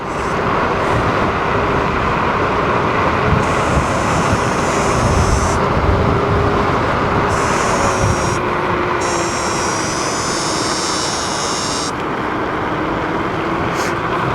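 Steady rushing wind and road noise from riding an Ausom Gallop dual-motor 2400W electric scooter downhill, with a faint high motor whine rising and falling, continuous throughout with no talk.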